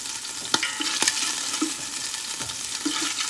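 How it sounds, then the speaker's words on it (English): Porridge ingredients sauté in hot oil in a pan, giving a steady sizzle and frying hiss with occasional scraping stirs and light clacks from the utensil, close by with no talking. "I'm going to saute now"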